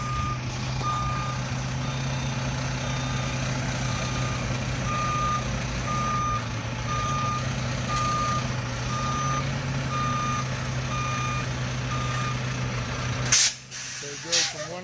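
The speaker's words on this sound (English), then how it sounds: "So now he's going to get up in the truck. And he's going to back it up." A truck backing up to slide its trailer tandems, its reversing alarm repeating in an even beep pattern over a constant idling engine drone, with a voice talking over it and a loud air-brake hiss bursting near the end.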